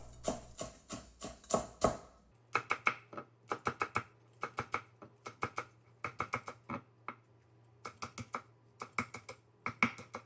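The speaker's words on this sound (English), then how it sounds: "Chop up the spring onions too while you're at it." Sharp knife strikes on a cutting board as spring onions are chopped, close and crisp, in quick bursts of rhythmic taps separated by brief pauses, with no talking.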